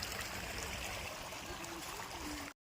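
Water rushing along a stream path below the Palakondalu waterfall near Kadapa, a steady broadband wash of flowing water that stays constant and fairly close, with no voices.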